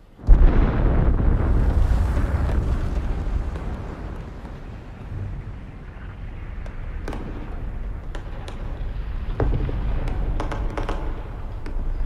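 Bombing explosions from the film Leave the World Behind as New York is bombed: a deep, heavy boom swells loudly, then rolls off into a long low rumble with a few scattered distant thuds and crackles.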